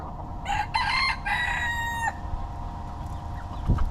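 A rooster crows once near by, a drawn-out strained call, with chickens clucking around it and outdoor background noise in the Florida Keys; a low thump follows near the end.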